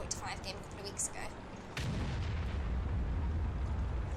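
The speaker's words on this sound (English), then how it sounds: "And the artillery gets me." In a tank video game, an artillery shell slams into a T-28 Prototype tank with a sudden heavy boom, then a sustained low rumble follows. Faint voices and scattered game sounds come before the impact.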